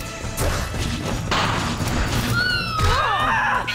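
Horse neighing in the video game Rune Factory Frontier, a short whinny with wavering calls near the end, heard over clashing battle effects, swooshes and game music.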